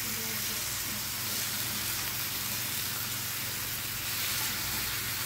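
Three bacon strips sizzle in a pan, a steady dense crackling hiss that stays even and close throughout with no talking.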